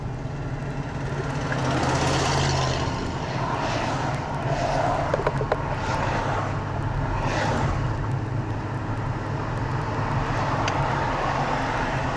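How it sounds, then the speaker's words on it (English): A steady, loud engine roar of a helicopter overhead in Beverly Hills, rising and holding throughout, with broad rushing noise and no voices. "there's a helicopter"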